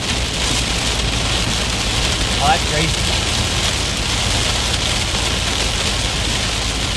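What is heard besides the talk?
heavy rain on a car on the highway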